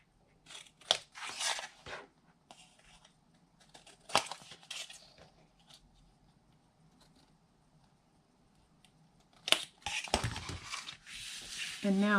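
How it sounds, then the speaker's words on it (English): Several crisp snips of scissors cutting paper edges in short bursts, with quieter rustling and handling noises between them, close by and without talk. "I'm going to come back in with my scissors and just snip at the edges"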